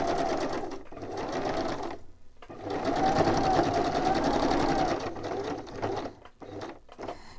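A sewing machine runs in several bursts, its motor whirring steadily near the microphone with brief pauses and stops between stitching runs, alone without talk.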